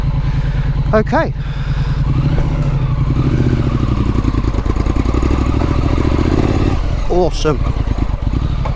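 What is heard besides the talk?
Triumph Street Scrambler motorcycle riding up a sandy slope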